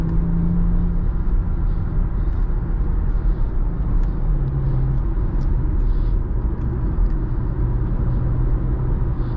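A 2017 Porsche Macan Turbo accelerating hard on an open road, heard from inside as a deep, steady engine rumble with rising tonal notes and road noise throughout, no talking.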